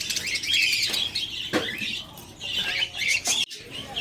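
Pet birds eating Galimax 2 seed feed in a backyard setting, with busy scratchy pecking and rustling, small chirps and wing flutters mixed in, steady and close with no talk.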